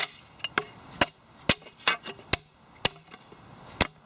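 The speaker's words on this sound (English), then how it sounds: "grab a big old hammer and just bash it all" Heavy hammer blows flattening angled aluminium greenhouse frame pieces, about nine sharp metallic strikes at irregular intervals, close and loud, with no talking.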